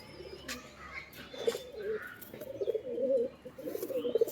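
High-flyer pigeons cooing nearby in soft, repeated low throaty calls, several overlapping, with faint rustling and occasional chirps in the background.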